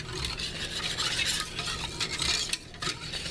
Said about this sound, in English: You're just going to stir this in.